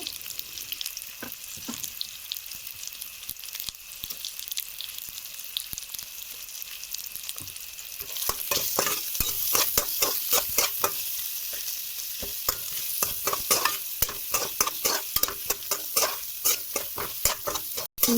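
Spices with turmeric and salt fry for an Assamese fish curry, a steady hissing sizzle that grows louder midway, with rapid spatula scrapes and stirring taps against the pan.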